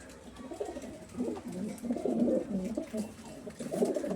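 A male Giribaz-type pigeon at a pigeon sale in Ashoknagar coos in soft, repeated rolling phrases close up, with no talking over it.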